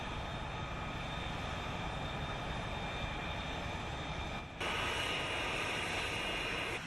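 A jet aircraft engine roars as a steady, broadband rush, loud and unbroken, with a brief dip before the sound swells slightly brighter and stronger toward the end.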